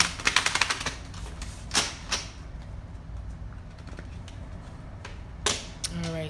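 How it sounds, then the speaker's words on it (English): A deck of tarot cards being shuffled, a quick burst of crisp riffling clicks at the start, then scattered softer card flicks and slides, close and fairly quiet. "All right, so I'm just shuffling the deck."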